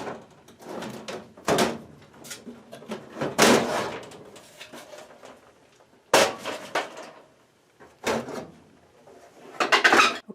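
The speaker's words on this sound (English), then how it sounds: "now with the panel open" Access panel on a gas furnace being handled and opened, with a string of metallic clanks, scrapes and thumps at uneven intervals, close by.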